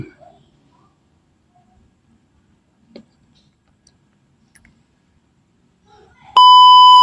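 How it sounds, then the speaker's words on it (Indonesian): A simulated temperature alarm from a Wokwi online Arduino Uno circuit with a DHT22 sensor starts abruptly after several seconds of near silence and small clicks, then holds a loud, steady electronic beep tone. "jika suhunya di atas 30 derajat Celcius itu akan berbunyi alarm seperti ini"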